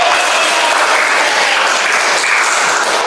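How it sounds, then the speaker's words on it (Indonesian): Students in a university classroom clap together, loud, dense and continuous applause filling the room from start to finish with no speech over it. "Tepuk tangan dulu untuk semuanya."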